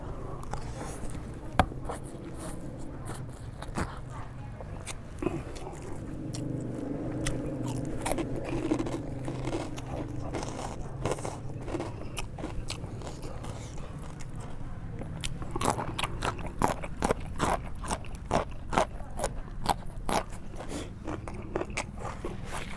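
Someone eats spicy noodles close to the microphone, with repeated crisp bites, crunches and wet chewing clicks against a quiet room background over a long stretch.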